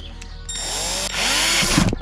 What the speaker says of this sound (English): I am just gonna be straight drilling it through right from the top.